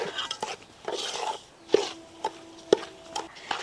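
Sugar syrup being stirred into a Tharivattu snack mixture, a traditional Kerala sweet: rhythmic scraping strokes of a spoon through the thick mixture, with several sharp clinks against the pot, close and clear.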